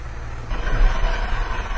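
A 2004 Jeep Cherokee engine idles rough and lean while propane is fed into the sealed intake, a low uneven rumble with irregular surging pulses, close and steady, with no talking.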